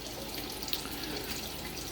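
Water pumped from the sump of a home aquaponics setup beside a fish tank, a steady close rushing and trickling flow that stays even throughout with no talking.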